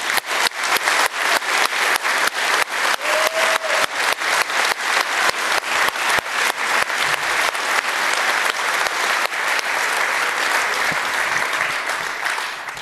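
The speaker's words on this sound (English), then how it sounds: "I think a big round of applause before we go and start." Loud audience applause opening a network operators' conference, beginning as rhythmic unison clapping in steady beats and then loosening into a continuous dense wash of clapping.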